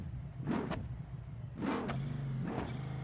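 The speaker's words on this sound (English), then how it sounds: "basically it's just a stock Ram 1500 from the year with a big old engine on it" A stock Ram 1500 pickup fitted with a big engine in BeamNG Drive revs in three loud bursts, each a roaring rise that falls back to a rumbling idle, with no voices.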